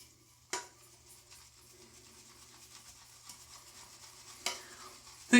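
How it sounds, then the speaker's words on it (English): A shaving brush swirls soap in a bowl for wet shaving, a soft, close lathering rub with faint brushing texture, broken by a couple of sharper taps of the brush against the bowl. "let's just get the brush, put it in the bowl"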